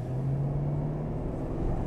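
A 1979 Mercedes 450 SE W116 saloon pulls away with a steady low engine drone, a constant rumble close by with no talking over it.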